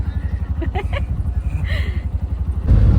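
An auto rickshaw engine putters steadily from close by during a ride, with a rapid low throb that keeps going the whole time and a brief voice over it.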